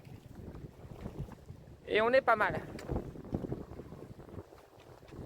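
Strong wind of about 20 knots roars against the microphone on a sailboat under way, a steady low rush with water noise, while someone speaks briefly in the middle.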